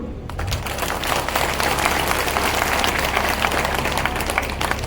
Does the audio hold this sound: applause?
yes